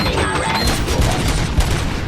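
Dense gunfire rattles through a busy scene in the video game RoboCop: Rogue City, loud and continuous, with heavier thumps breaking through the noisy barrage.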